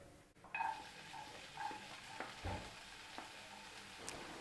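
Finely chopped vegetables frying in coconut oil in a hot kadai over high flame for street-style veg fried rice, with a steady sizzle broken by several stirring scrapes and clinks of a ladle against the pan.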